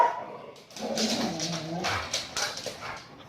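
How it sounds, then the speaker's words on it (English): A dog whimpers and gives a few short yips and barks at close range, the sounds broken up over a few seconds with no speech. "stop this dog from barking at the postman"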